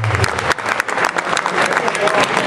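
Audience applause at a live music show opening, a crowd clapping in an uneven patter with some voices mixed in.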